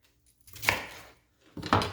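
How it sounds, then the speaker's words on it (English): A knife cuts through vegetable slices on a cutting board, two distinct close chops a second apart, each a sharp board tap with a short follow-through, no talking. "And then I like to cut these slices in half, approximately."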